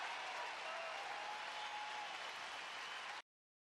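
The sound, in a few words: crowd applauding in baseball video game OOTP 23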